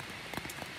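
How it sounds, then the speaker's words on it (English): Soft, steady rain patters on a surface, with a few slightly louder drops standing out against the even wash. "it's raining outside"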